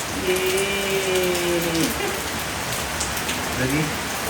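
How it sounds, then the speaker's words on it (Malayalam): Heavy rain pours down in a steady, dense hiss, with a faint voice briefly audible beneath the downpour. "നല്ല മഴയാണ് കേട്ടോ"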